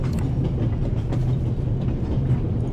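A moving Orient Express steam train in a video game, heard from near the coal car: a steady, dense low rumble of rolling wheels and carriage rattle with faint rhythmic clatter, continuous and fairly loud.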